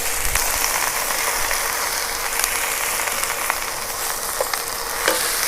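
Chinese kale (gai lan) stir-fried in a hot pan with oyster sauce: a loud, even frying hiss throughout, dotted with light clinks and scrapes as the greens are tossed.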